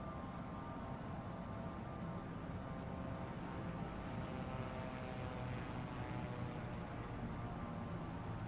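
A helicopter in Microsoft Flight Simulator 2024 on PS5 drones steadily with a dense, continuous rotor and engine roar at constant loudness, no talk over it.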